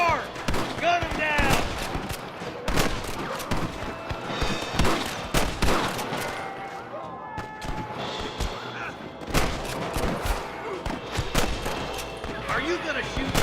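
Gunfire in the Wild West game Red Dead Redemption during a shootout with rustler guards: a rapid series of sharp, loud shots and thumps, close and scattered across the clip, mixed with shouting voices and game sounds.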